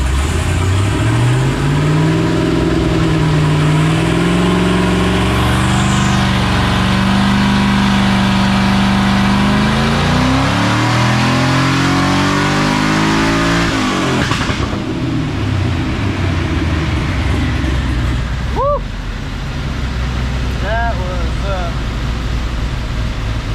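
A twin-turbo Camaro engine revs hard, climbing steadily in a loud sweep before dropping off, followed by lower idling rumble with a few brief sharp sounds near the end.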